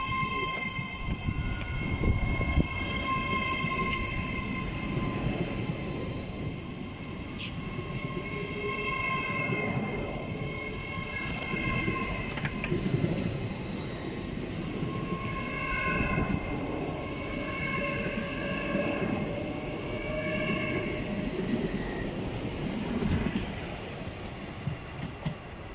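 A train passes on the East Coast Main Line, a loud, steady rumble and roar of rolling stock lasting throughout, with sustained tonal whines riding over the noise.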